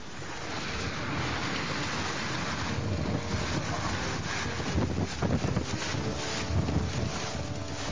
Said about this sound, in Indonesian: Terjangan angin puting beliung di Kecamatan Prajikan Bondowoso sore kemarin terekam kamera warga.